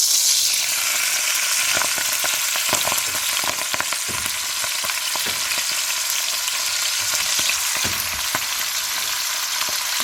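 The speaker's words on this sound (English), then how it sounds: "A little bit of sizzle." Beet greens sizzling and crackling in hot bacon fat in a pan, a continuous loud hiss dotted with sharp pops and spits, no talking.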